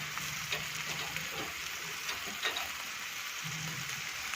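Sev parvar curry with spices cooking in a pan, giving a steady, even sizzle throughout with a few faint stirring clicks.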